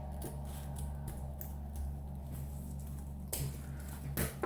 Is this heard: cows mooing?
no